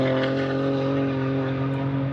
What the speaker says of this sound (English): here's Jackie Ding in his BMW M2